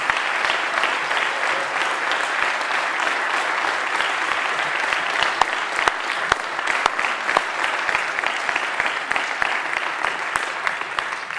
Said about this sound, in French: Puis-je vous demander de les applaudir chaleureusement.